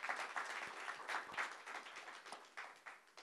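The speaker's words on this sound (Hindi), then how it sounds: "उनके लिए ताली बजाइए" An audience at a film teaser launch claps for the lead actor, a fairly faint, continuous patter of many hands with small swells and no talking.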